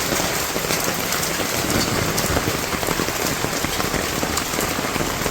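Steady rain pours down over a village on a rainy day, a dense continuous hiss with scattered drop impacts, close and even throughout with no voices.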